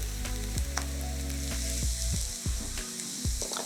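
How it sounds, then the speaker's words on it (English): Spices go into a hot pan and sizzle loudly for a pumpkin curry. There is a steady, close frying crackle with a few scraping stirs. "The spices go in."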